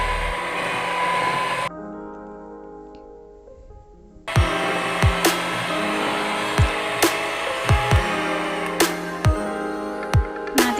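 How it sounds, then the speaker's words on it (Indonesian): Electric hand mixer whirring through banana cake batter at medium speed, a steady motor drone with a brief quieter stretch, then a louder running hum punctuated by repeated sharp knocks of the beaters against the bowl. "aku mixer lagi dengan kecepatan sedang saja"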